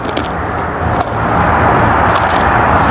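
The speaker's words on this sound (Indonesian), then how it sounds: "Banyak mobil ya." Cars pass along a roadside in Saudi Arabia during an outdoor breakfast, a steady close wash of tyre and engine noise swelling slightly as a vehicle goes by.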